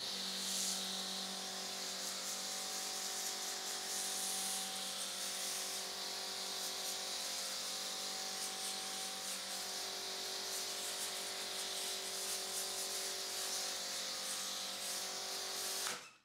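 A budget foam cannon sprays thick car-wash foam onto a car, a continuous loud, close hissing spray lasting about sixteen seconds with a steady pressurized tone, stopping abruptly at the end.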